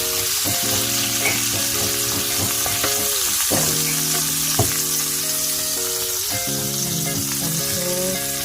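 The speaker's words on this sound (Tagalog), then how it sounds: "And then I will put shrimp on it." Shrimp sizzling in hot oil in a frying pan, a steady loud crackle and hiss with occasional stirring clatter, no talking.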